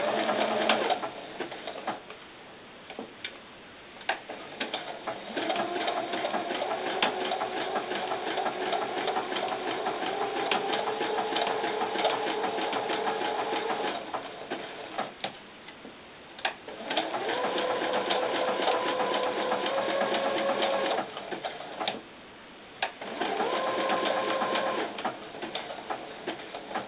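A sewing machine stitches doll belt fabric around a curve in long, steady runs of buzzing whirr, pausing briefly now and then as the fabric is repositioned, with a faint birdlike coo in the background.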